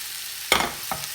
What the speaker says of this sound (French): on va aller faire sauter notre poulet dans la casserole